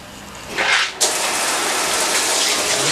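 Water gushes loudly from a lowered static caravan shower head as the hot line drains, a brief burst before a sudden, steady full rush that continues to the end.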